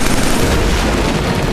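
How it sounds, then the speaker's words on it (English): Grenade blast in Killzone 3, a loud, dense wall of noise that stays roaring and saturated for the whole short stretch rather than a single clean boom. "Grenade."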